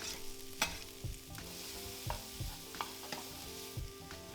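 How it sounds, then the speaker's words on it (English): Onions, peppers and garlic stir-fry in olive oil in a large pan, a steady sizzle broken by repeated scraping strokes of a utensil roughly every half second, close and clear with no voices. "in a large pan heat 1 tablespoon of olive oil and stir fry the onions, peppers and garlic for roughly 3 minutes"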